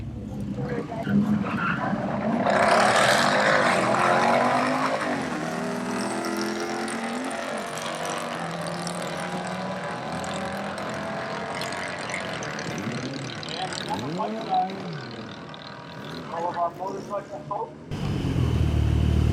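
A turbocharged Volvo V70R wagon makes a drag strip pass in a rematch with a Mustang, its engine loud and close, revving hard through rising gear pulls before cutting off abruptly, with voices over the engine noise.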